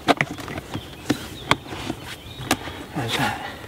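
Honeybees buzz around an open hive during queen rearing, a close steady drone broken by sharp clicks and knocks of the hive being handled, no one speaking.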